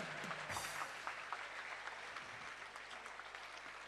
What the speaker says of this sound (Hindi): पूरी जैन समाज एक बार दोनों हाथ उठाकर जोरदार तालियां बजाकर उनका स्वागत